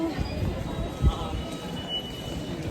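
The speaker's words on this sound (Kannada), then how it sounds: "ನೋಡಿ, ಇದೇ ಮೆಜೆಸ್ಟಿಕ್ ಮೆಟ್ರೋ, ನಮ್ಮ ಮೆಟ್ರೋ." A Namma Metro train at Majestic station in Bengaluru rumbles steadily with low rolling wheel noise and a faint high squeal, filling the station with constant mechanical drone.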